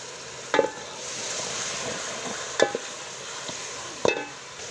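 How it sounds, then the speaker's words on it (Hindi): Tomatoes go into a pan of frying kofta masala with a steady low sizzle, broken by three sharp scraping clanks of a spoon against the pan spaced about two seconds apart. "अब मैं डालूंगी इसमें टमाटर"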